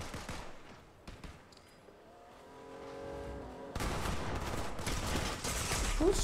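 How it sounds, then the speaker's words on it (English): Rapid gunfire bursts in the video game Fortnite, dense and rattling, growing louder and more continuous in the second half over a steady game background with no talk. "Who's shooting me?"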